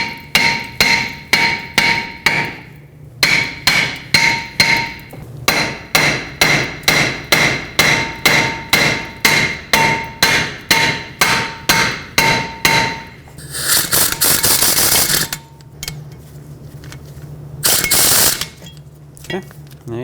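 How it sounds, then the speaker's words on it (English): A hammer taps rapidly and repeatedly on a stuck front brake rotor of a 2012-2017 Toyota Camry, striking between the lug studs. The metallic, ringing blows come in close, loud bursts, then give way to scraping and clattering. "you can either use a hammer, tap right between the lug studs"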